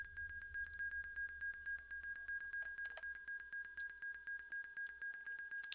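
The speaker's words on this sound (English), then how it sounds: "let's go ahead and turn the batteries off to kill that alarm" Cockpit alarm of a Pilatus PC-12 in the X-Plane 11 flight simulator: a continuous high electronic tone pulsing in rapid regular beeps, steady and fairly quiet over a low engine hum, no talking.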